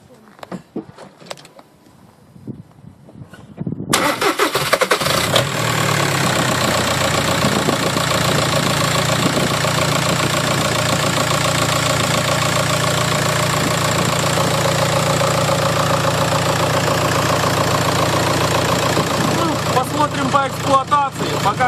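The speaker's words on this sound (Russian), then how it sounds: "Сейчас попробуем завести." A VW Caddy engine, after a fuel filter change, cranks and starts at about four seconds, then idles steadily with a loud, even diesel-like clatter. Faint clicks and handling noises come before the start.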